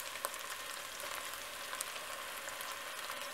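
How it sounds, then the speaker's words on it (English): Onions and scallions fry with curry paste in a pan, giving a soft, steady sizzle with faint crackles, heard close and quiet. "Once those onions and the scallions have had a chance to fry up for just a little bit"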